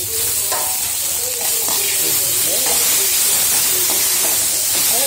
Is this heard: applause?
no